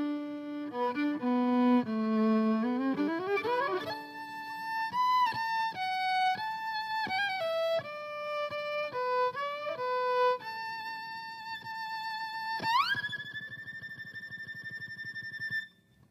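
A fiddle plays through a Mesa Boogie Triaxis amp in rhythm green mode, bright sustained notes stepping through a quick melodic run, then one long held note with a slide up before cutting off.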